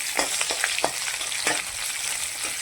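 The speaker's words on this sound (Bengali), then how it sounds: "আর দেবো পেঁয়াজ কুচি দিয়ে নাড়াচাড়া করে দেবো" Chopped onion and panch phoron stir-fry in a pan with a dense, steady sizzle and quick irregular scraping strokes, close and moderately loud.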